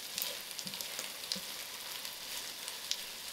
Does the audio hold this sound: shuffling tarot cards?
no